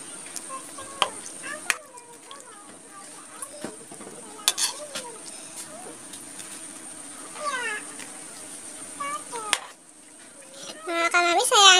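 Chicken adobo in coconut milk is stirred in a pan with soft scraping and a faint sizzle, while someone talks quietly and a cat meows now and then.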